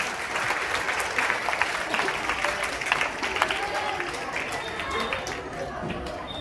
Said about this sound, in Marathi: त्यांच्या वक्तव्यासाठी सगळ्यांनी जोरदार टाळ्या वाजवल्या.